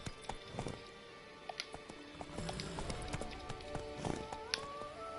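Rapid clip-clop of horse hooves galloping in a quick rhythm in the video game The Witcher 3: Wild Hunt, with game background tones and chimes; fairly quiet overall.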